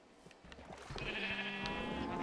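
Sheep in the video game Minecraft, standing in water, let out a drawn-out bleat that rises from the quieter game sounds, near and fairly loud.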